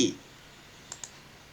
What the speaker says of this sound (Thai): คลิกขวาครับ